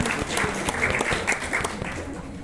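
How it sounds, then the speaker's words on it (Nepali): Applause from a crowd, dense clapping filling the whole stretch at a steady, fairly loud level with a few sharper claps standing out. "एकपल्ट जोरदार ताली उहाँहरूका लागि"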